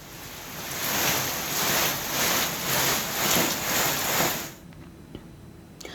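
Heavy rain falling during two days of relentless downpour in Chhattisgarh, a dense, steady hiss that swells and pulses for over four seconds, then cuts off abruptly into near silence.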